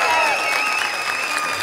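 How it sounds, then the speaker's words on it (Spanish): A crowd applauds at a Halloween special show, the clapping steady and dense with a faint cheer, while tonal sounds or music ring over it. "¡El aplauso para el ratero!"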